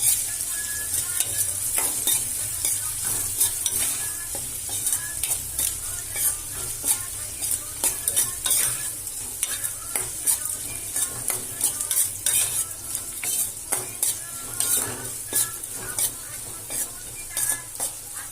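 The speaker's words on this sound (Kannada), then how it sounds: "ಈಗ ಇದನ್ನ ಉಳ್ಳಾಗಡ್ಡೆ ಹಾಕೊಂಡು ಮಿಕ್ಸ್ ಮಾಡ್ಕೊಂಡು" Sliced onions and green chillies sizzle steadily in a pan while a utensil stirs and scrapes against the metal in frequent, irregular strokes, fairly close and continuous.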